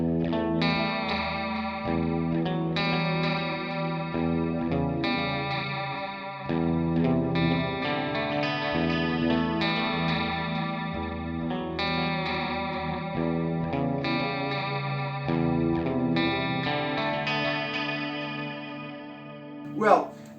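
Clean electric guitar through a Digitech RP355 multi-effects unit, set to a chorus-and-delay preset with a vintage 4x12 cabinet model, plays ringing chords and arpeggios steadily and loudly, shimmering with modulation and trailing echoes.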